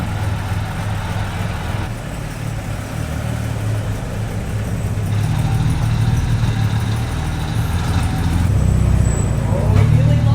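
A classic car's engine idles and then rumbles louder as it is driven out of a garage, a steady low drone that builds toward the end while people talk over it.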